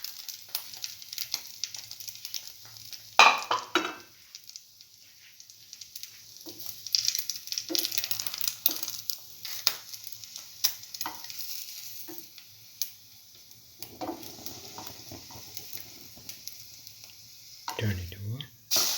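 Bread dipped in a chili, ginger and garlic mixture fries in a pan as French toast, giving a quiet, steady sizzle broken by short scraping and stirring sounds, with a voice speaking over it now and then.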